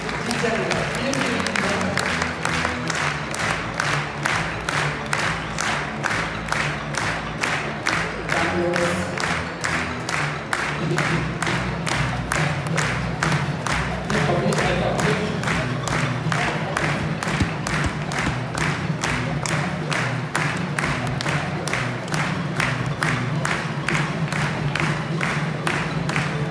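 Audience clapping in rhythmic unison at a dog show in Münster, steady beats carrying on for nearly half a minute over background music and crowd noise.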